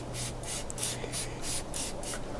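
Rapid, rhythmic hissing bursts of a spray bottle squirting white spirits onto greasy Kawasaki GTR 1000 suspension parts, about eight quick squirts in a row, close and fairly loud.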